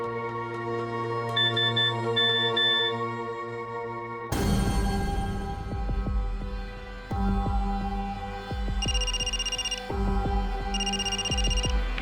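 A telephone rings in repeated short bursts of high electronic tones, heard over sustained background music and a dense mid-level bed of sound.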